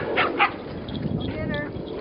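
A dog barks in a snowy winter park during a chase game, with a couple of short barks early on under and alongside people talking outdoors.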